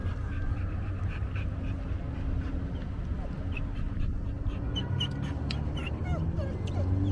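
A dog pants rapidly and steadily up close inside a moving car, with occasional soft whimpers over a low rumbling background.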